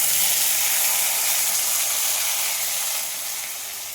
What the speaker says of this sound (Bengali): সর্ষের তেলে লঙ্কা, তেজপাতা ফোড়ন দিয়ে দিয়েছি।